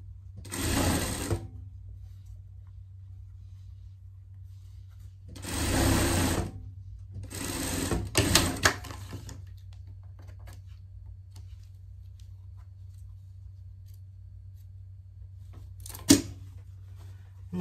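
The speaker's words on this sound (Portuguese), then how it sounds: "Aqui a gente vai passar uma costura de segurança." A sewing machine runs a safety seam on denim in three short bursts of stitching with pauses between them, followed by a single sharp tap and a steady low hum in a quiet room.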